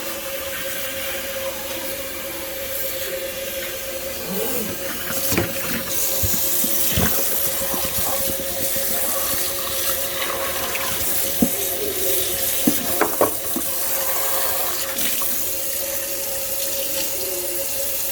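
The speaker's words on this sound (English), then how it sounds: "let's rinse that with some cold water." Cold tap water pours from a sink faucet over a George Foreman stand-up grill, a steady rushing hiss that runs unbroken throughout, with a few brief clatters and splashes as the grill is moved under the stream.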